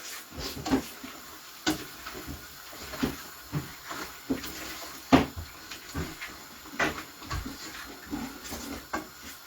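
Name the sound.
door being opened or closed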